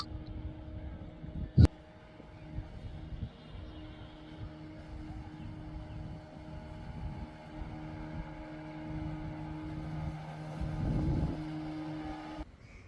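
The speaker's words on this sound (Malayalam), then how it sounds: "കടലിൽ നിന്ന് മീനും പിടിച്ചുകൊണ്ട് ഒരു ബോട്ട് ഹാർബറിലേക്ക് അടുക്കും ഗൈസ്" A fishing boat's low, steady engine drone hums at a distance over faint wind as it approaches the harbour at Perumathura, Kerala, with a sharp knock early on.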